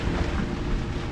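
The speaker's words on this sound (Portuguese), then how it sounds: "Agora neste momento 20 nós de vento" Strong cyclone wind gusting near Denarau on the northwest tip of Viti Levu, Fiji, with heavy rain, a steady loud broadband roar buffeting the microphone without pause.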